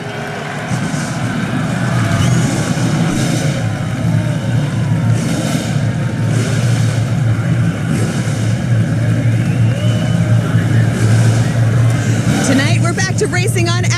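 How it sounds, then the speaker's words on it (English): Race car engines at Lucas Oil Raceway rumble and rev together in a loud, sustained engine roar that fills the whole stretch, with a crowd-like wash beneath and a sharp burst of activity near the end. "Drivers, start your engines."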